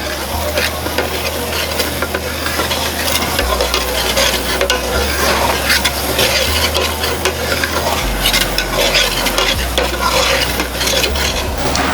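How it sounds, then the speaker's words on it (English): Curry leaves and onion frying in rempah for a sardine curry, a loud continuous sizzle with scraping stir strokes of a utensil against the pan throughout, no talking. "we're just going to give this a good stir until all that flavour comes out"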